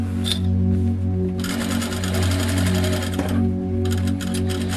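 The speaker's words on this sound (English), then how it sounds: "sew around the neck seam, making sure that you're catching the other side if you can't see it." A sewing machine stitches around the neck seam of a reversible apron, running as a steady, close, continuous motor whir with slight changes in speed and brief pauses, and no voices.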